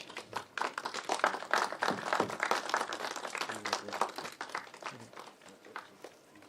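Audience applause at a film festival in Imphal, a dense, sustained burst of many hands clapping that swells quickly and tapers slightly toward the end.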